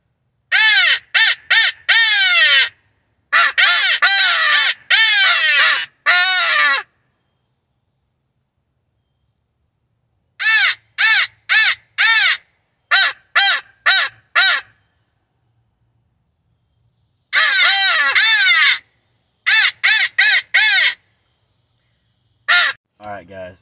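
Crows caw from near and far, answered by hand-blown crow calls and an electronic call on an evening crow hunt in Indiana: bursts of loud, rapid caws in clusters, broken by long silent gaps.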